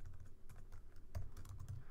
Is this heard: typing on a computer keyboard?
yes